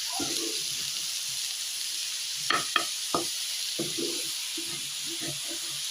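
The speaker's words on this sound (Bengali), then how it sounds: "আলাদা আলাদা করে না ভেজে একসাথে সব ভাজছি" Several kinds of leafy greens fry together in one pan with a constant soft sizzling hiss, broken by occasional scraping strokes and light clicks from the spatula.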